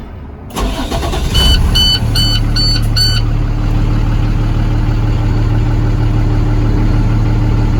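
A 2015 International 4300 refrigerated box truck's engine cranks and starts with a few chiming dash beeps, then settles into a steady, loud low idle that rumbles on.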